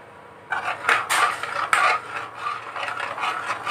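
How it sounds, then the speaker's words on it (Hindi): Rice batter being stirred steadily in a kadai for medu vada, with near, repeated scraping and knocking of the spoon against the metal pan, unbroken for several seconds and no talk over it. "जो हमने बैटर बनाया था चावल का कढ़ाई में डाल देंगे इस तरह से इसको लगातार चलाते रहेंगे"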